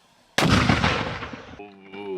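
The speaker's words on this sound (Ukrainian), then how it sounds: "Постріл!" A single loud gunshot cracks out close by, its blast ringing and fading over a second or so.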